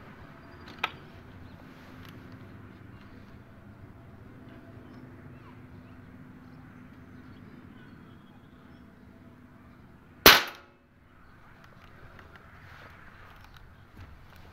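A .22 caliber airgun fires a 21-grain Avenger Barracuda pellet at about 850 fps: a single sharp, loud crack late in the clip, followed by a brief silence, with a faint earlier tick and low background noise.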